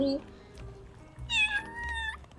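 A cat meows in the video game Little Kitty, Big City, one clear drawn-out meow in the middle, with a person talking before and around it.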